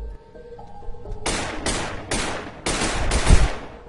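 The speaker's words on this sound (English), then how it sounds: "I think I missed every shot." Gunfire from F.E.A.R.: after a quiet start, five loud, close shots ring out in an uneven burst, each trailing off in a short echoing decay, with no talk over them.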